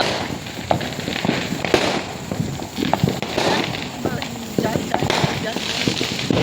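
Rapid, irregular Diwali firecracker pops crackle in bursts throughout, with scattered sharper bangs from big firecrackers and voices talking underneath.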